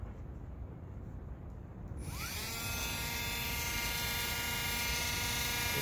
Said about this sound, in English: Get my Dremel again.